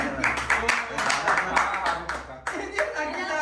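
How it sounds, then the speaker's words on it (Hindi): Hand clapping at a birthday gathering, a quick rhythmic patter of a few people close by, running steadily under lively overlapping talk. "तालियां तालियां तालियां मारो,"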